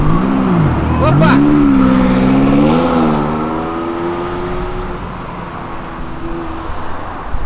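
A Ferrari on Avenida Europa revs loudly nearby, its engine note rising and falling through several throttle blips before settling into a steady drone, with street noise and voices underneath.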